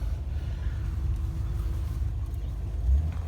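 A 1974 Cadillac Fleetwood Brougham with its 472 V8 cruising, a low, steady engine rumble with road noise heard from inside the car, brief faint tone midway and a slight swell near the end.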